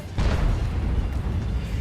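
A tank's main gun fires in a tank video game, giving one heavy boom that rolls on into a long, loud rumbling decay.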